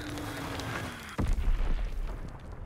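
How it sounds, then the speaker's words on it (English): An enemy bomb in a video game hits with one sudden deep boom, its rumble rolling on for over a second after a faint falling whistle. "Enemy bomb incoming. Get to cover."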